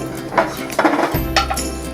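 Roasted oats get transferred from a pan into a jar, with soft metallic scrapes and light clinks of a spoon against the cookware in a short, close kitchen sequence.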